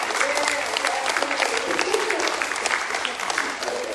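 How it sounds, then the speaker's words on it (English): Congregation applauding during a Sunday celebration church service, a loud, sustained burst of clapping from the gathered crowd with no clear speech on top. "give him an applause"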